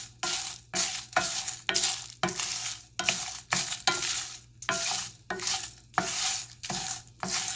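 Masala dry roasting with a little oil in a pan, heard as rhythmic bursts of scraping and stirring about every half second, each stroke loud and close with short gaps between.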